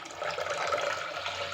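Water pours in a steady, soft stream into mashed curd while buttermilk is prepared, a faint continuous gurgling splash with no talk.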